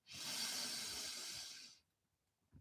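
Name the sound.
deep breath in during guided meditation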